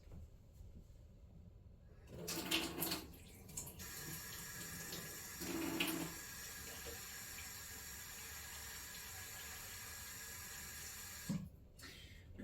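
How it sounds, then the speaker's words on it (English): Water runs steadily from a tap for several seconds with a constant hiss, interrupted by a few clattering bumps and splashes. "Put a little more water in there."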